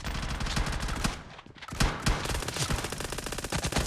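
Rapid bursts of automatic gunfire in a team shooter video game, loud close rattling volleys with a brief pause midway.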